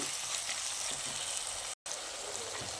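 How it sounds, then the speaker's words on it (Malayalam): Crushed spices and curry leaves sautéing in a pan give a steady, close hiss of frying oil that holds even throughout, broken by one brief silent gap. "കറിവേപ്പില ഇത് നന്നായിട്ട് വഴറ്റിയെടുക്കുക"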